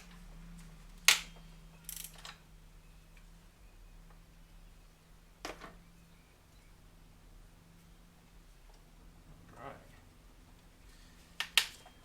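A hand ratchet is used to pull accessories off a Mazdaspeed3 engine, sounding as a few sharp clicking bursts spaced several seconds apart in a quiet garage, with faint low speech between them.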